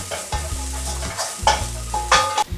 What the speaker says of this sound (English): give that a moment over the heat to toast the orange zest and bring out all the flavour